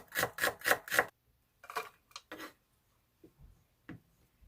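A knife chops onion halves rapidly on a board, four quick cuts, then a pause and a few scattered slicing strokes, close and fairly quiet.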